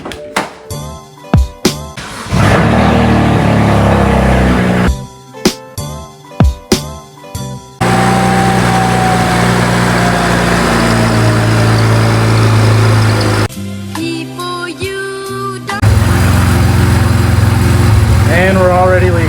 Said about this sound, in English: So now it's time to start the car